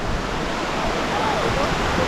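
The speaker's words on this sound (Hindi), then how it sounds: "वाटरफॉल किस तरीके से यहाँ पर चल रहा है, आप देख लीजिए। और कितनी तेज़ी से ऊपर से गिर रहा है।" A mountain waterfall on the Amarnath Yatra route pours down fast after rain, making a loud, steady, unbroken roar of rushing water that fills the whole clip.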